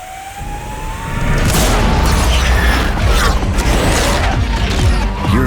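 A Hyundai IONIQ 5 N electric performance car plays its simulated high-performance drive sound, a loud rising synthetic engine roar with sweeping whines and booming surges that build after a quieter opening and stay strong throughout.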